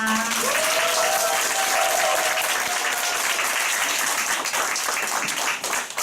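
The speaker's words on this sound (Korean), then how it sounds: "다시 한번 감사의 박수로 자, 크게 박수 한번" Audience at a Nu Skin business lecture breaking into loud, sustained applause, a thick continuous roar of many hands clapping that holds steady and only thins at the very end, with a brief tone at the start.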